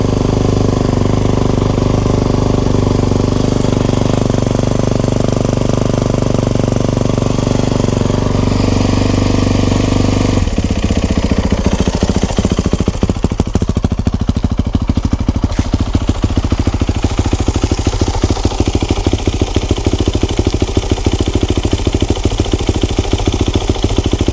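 A 2021 Kawasaki KX450 dirt bike engine cranks and catches partway through, then settles into a loud, rapid, steady idle that runs close by to the end with no talking.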